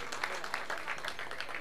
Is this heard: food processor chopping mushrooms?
no